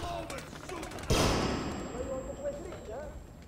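A flashbang grenade goes off in Splinter Cell: Conviction, a single sharp bang with a ringing, fading tail amid game noise, with players' voices around it.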